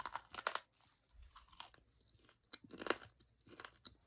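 Close, crisp crunching bursts of someone chewing a crunchy homemade snack, irregular bites and chews repeating over several seconds in a quiet room.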